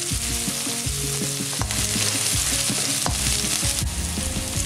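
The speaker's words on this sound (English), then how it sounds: "Heat oil in a pot, add halba mix and minced garlic and shallots, stir fry over medium heat until fragrant." Garlic and shallots with a halba spice mix stir-fry in hot oil in a pot over medium heat, a steady loud sizzle broken by repeated scrapes and knocks of a spatula against the pot.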